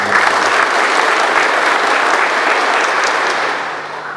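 An audience at an Indonesian civil-servant training opening ceremony applauds a mother in attendance, a loud, dense, steady wash of clapping from a large crowd that fades slightly at the end, no speech over it.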